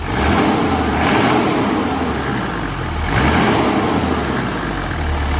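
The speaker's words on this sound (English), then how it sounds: "we're going to go ahead and rev it up a few times" Toyota Land Cruiser HZJ77 1HZ 4.2L diesel engine revved twice, each rise swelling from a rough idle and falling back, loud and close with no voices.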